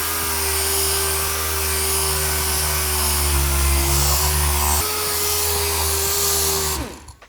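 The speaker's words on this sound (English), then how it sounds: "This is a very nice sander. This requires a large compressor to run." An air-powered sander runs on compressed air from a large compressor, a loud, steady, close whirring whine that holds for several seconds and then spins down abruptly.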